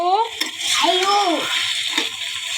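Food in a pan gives off a soft, continuous frying hiss while it is stirred. A voice talks over it briefly through the whole moment.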